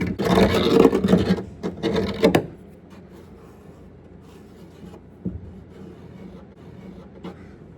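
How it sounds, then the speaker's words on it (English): A close, scratchy scraping of a deburring tool run along the inside of a drilled metal edge in a few quick strokes, then quiet with faint occasional taps. "I've got a little tool that's designed for it. It's called a deburring tool."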